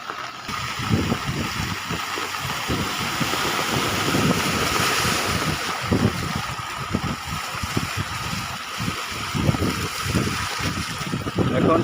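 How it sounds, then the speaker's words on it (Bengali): Rough, churning sea surf blends with steady wind buffeting the microphone during rain at sea, a continuous loud wash with irregular low-frequency gusts and no clear voices. "বর্তমানে সাগরের অবস্থা উত্তাল, সাগরে প্রচুর পরিমাণে ঢেউ।"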